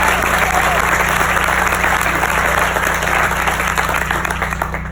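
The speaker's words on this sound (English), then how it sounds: "how about a round of applause for him?" Audience applause in a rug factory setting, dense and sustained clapping from a crowd that holds loud and steady throughout, tapering slightly at the very end.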